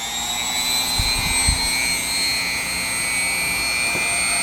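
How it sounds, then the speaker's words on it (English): A rotary tool's cutting disc bites into a windshield wiper motor with a steady high-pitched whine and grinding hiss, close and loud, a few low thumps near the start, no speech. "now we'll use our disc to cut into our windshield wiper motor"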